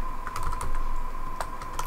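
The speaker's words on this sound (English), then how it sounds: "let's begin typing our program" Keys tapped on a computer keyboard while a C++ program is entered, a steady run of light clicks over a constant electronic hum, close and alone without talk.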